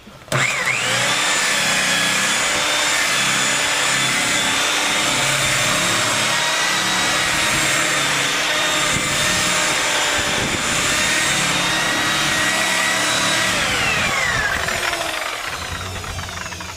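A rotary buffer runs at about 900 to 1,000 RPM while cutting and polishing car paint. It makes a steady, loud whine with a constant pitch for the whole stretch, close to the listener, and it eases off slightly near the end.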